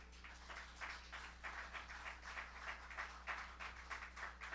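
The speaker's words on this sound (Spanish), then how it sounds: "¿Cuánto le da un aplauso a Cristo?" Steady applause from a congregation in a reverberant church, sustained and fairly distant, with no talking over it.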